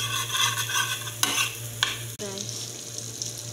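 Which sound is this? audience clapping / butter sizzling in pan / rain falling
butter sizzling in pan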